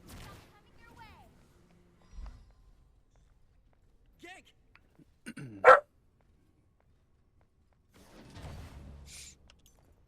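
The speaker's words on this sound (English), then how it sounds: "Sorry if you had the dog barks." A dog barks loudly once in a quiet room, with a couple of smaller barks and creaks earlier and a muffled voice near the end.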